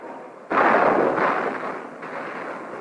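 Mortar rounds explode during the siege at Khe Sanh in Vietnam, with a sudden loud blast that rumbles on and fades, followed by a second, weaker burst.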